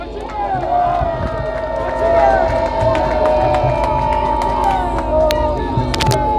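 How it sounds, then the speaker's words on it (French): A political meeting audience in Kinshasa applauds and cheers after a presidential election victory is hailed, a dense, sustained roar of crowd noise, clapping and shouting filling the whole stretch. "On peut l'applaudir."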